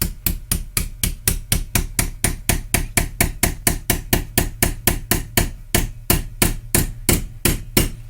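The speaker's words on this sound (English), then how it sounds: "Make sure you support that on something solid and just give it some light taps to get it on." Rapid, steady light hammer taps seat a choke onto an aftermarket carburetor for a Stihl TS400 cement saw, about thirty sharp, even strikes close up with no talking.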